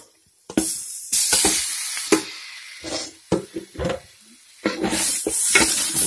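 Chilli-coated mutton pieces dropped into sautéed masala in a pan for Kerala-style mutton curry, bursts of loud close sizzling broken by stirring and short pauses.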